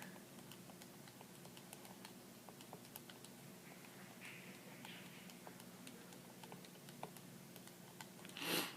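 Rapid, light key presses on a calculator keypad as numbers are entered, a steady patter of faint clicks running throughout with no talking.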